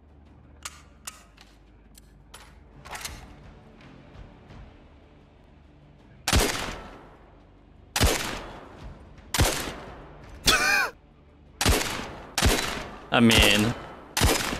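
A modified shotgun fired in the Zero Caliber VR shooter, with about eight loud, sharp blasts at irregular intervals and some softer clicks and handling noises before them. Someone says a few words between shots.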